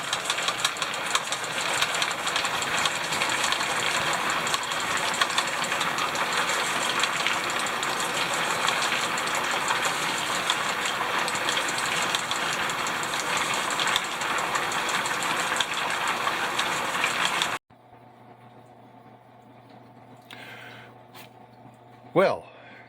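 Three rock tumbler barrels roll with a steady, close mechanical rumble and rhythmic motor hum that cuts off abruptly near the end, leaving quiet room noise and a faint knock.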